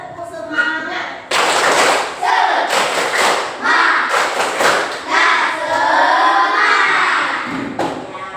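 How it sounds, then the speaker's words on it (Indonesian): A school class performs the tepuk semangat clapping chant, with loud rhythmic group claps and thumps mixed with many children's voices chanting and shouting together at close range. "Tepuk semangat."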